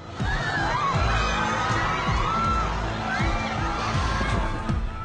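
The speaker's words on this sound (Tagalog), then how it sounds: "Magkahalong pangamba at panginayon sigaw ng mga residente ng Batangas" A crowd of residents in Batangas, Philippines, shouts and screams in fear as rocks fall onto houses, amid loud, chaotic outdoor noise, with overlapping cries and a few thuds throughout.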